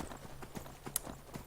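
Horse hooves clip-clopping on a mountain pass in the Skyrim video game, a steady run of distinct, moderately close hoofbeats alone with no talk.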